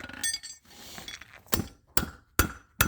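A steel horseshoe being hammered on the horn of an anvil to round and widen the heels: four sharp, ringing metallic strikes at an even pace, close and loud, after a stretch of quieter shop noise.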